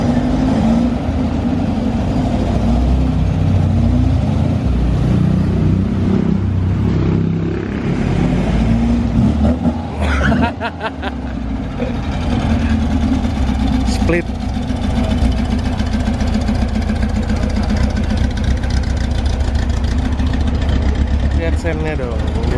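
A car pulls in to park at a Bank BJB cars and coffee meet in Bandung, its engine running with a steady, close rumble that rises briefly as it revs, while people talk over it.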